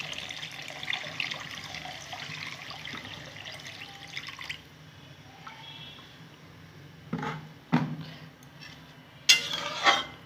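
Water runs and splashes into a pan of spiced cabbage gravy, a steady trickle that fades, followed by several clanking utensil knocks against the pan, close up with no voices.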